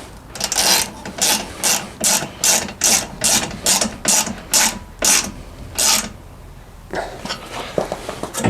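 A ratchet wrench tightens bolts on steel footwells being fitted to a Can-Am Outlander ATV, giving a loud, close run of about a dozen evenly spaced clicking strokes, then a pause and a few softer, quicker clicks.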